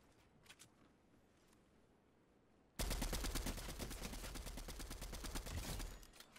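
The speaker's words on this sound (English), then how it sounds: "Why does this fucker keep shooting me out?" Rapid bursts of gunfire from a shooter video game with an auto shotgun, loud and dense after a quiet start with faint distant shots, continuing for several seconds with no talking.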